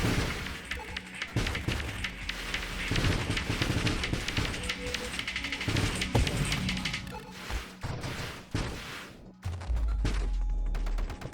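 Ship under constant enemy fire in the space shooter Nova Drift, deep into the later waves: dense, continuous bursts of rapid shots and crackling impacts layered over a loud electronic score, steady and busy throughout, with no voices.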